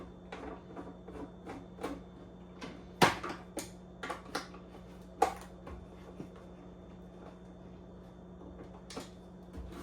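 A kitchen drawer is handled and slid back into place, giving a series of faint, sharp clicks and knocks, with a couple of louder wooden thuds standing out over a steady low hum.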